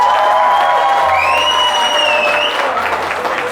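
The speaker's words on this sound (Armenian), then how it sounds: "որ կողմն է հարսիկի կողմը թող ծափեր տա լսենք" Bride's-side guests at a wedding clap together in a steady burst of applause, with scattered whoops and whistles rising from the crowd.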